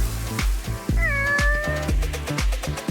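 Cartoon cats let out one clear, drawn-out meow in the middle, set against a bouncy rhythm of repeated low thumps that runs through the whole stretch.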